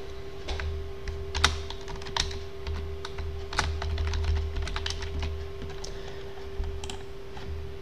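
Fingers tap out a password on a computer keyboard while setting up SSH in Home Assistant, a quick, uneven run of close, crisp key clicks with no talking.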